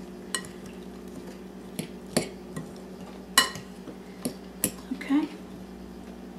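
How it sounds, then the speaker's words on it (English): A spoon scrapes and clinks against a bowl at a steady pace as chopped Georgia pecans are stirred into mashed sweet potato, with scattered sharp taps and a brief spoken word. "I'm now going to add 3/4 cup of nice chopped pecans from the great state of Georgia. Stick them right in there. And we're going to mix these all nicely together"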